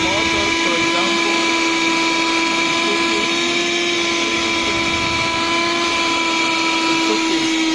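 A repaired electric fan motor runs with a steady electric hum and a strong constant tone, close and continuous throughout, while a person talks over it.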